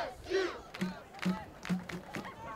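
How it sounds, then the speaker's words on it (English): A college cheer squad at a men's soccer match chants in rhythmic bursts, four or five shouted syllables spaced about half a second apart, ringing out loudly over a low crowd murmur. "Talented cheer squad here, giving them the energy they need to see this last 45 seconds out."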